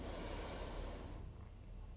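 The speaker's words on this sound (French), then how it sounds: "prenez une profonde respiration" A single slow, deep breath is drawn in as part of a guided breathing exercise. It is a soft, close, airy inhale that fades after about a second, with no talk over it.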